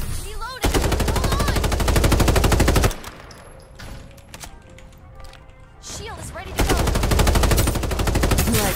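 Rapid automatic gunfire in the Farlight 84 shooter, two long loud bursts of fast, steady shots separated by a quieter stretch of distant pops and game sounds.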